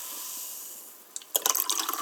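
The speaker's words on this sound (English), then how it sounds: "open up this Calamansi Citrus and Strawberry Sparkling water and you fill it halfway into" Calamansi citrus and strawberry sparkling water splashes into a cup after a quiet, hissing lead-in, giving a brief burst of bright fizzy pouring and bubbling near the microphone.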